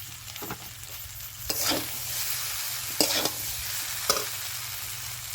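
Fried vegetables and egg stirred into chow mein sizzling in a pan, a steady close fry broken by a few sharp scraping strokes of a spatula, with no voices.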